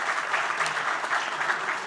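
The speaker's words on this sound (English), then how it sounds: "Can we please have a huge round of applause for these amazing men?" Audience applause at a red carpet event, a dense, steady wash of many hands clapping close by, filling the whole stretch without a break.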